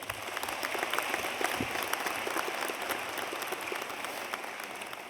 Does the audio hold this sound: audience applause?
yes